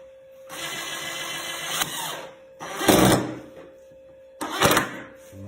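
An electric drill works wood in a woodworking class, making three separate whirring bursts with short pauses between them, close and moderately loud, the later two bursts sharper and harsher than the first.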